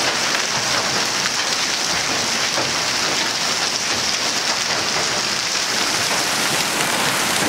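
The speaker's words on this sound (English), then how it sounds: "It's complete hail madness." Large hail pounding down in a freak storm, a dense, steady, loud roar of impacts that continues unbroken throughout, with no voices.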